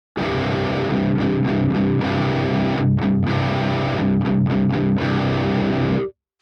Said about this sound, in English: let's start by turning on the DS1